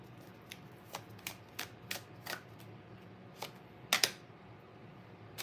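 Tarot cards being shuffled by hand, heard as a series of soft, quick riffling bursts and flicks at irregular intervals, close and fairly quiet with no talking.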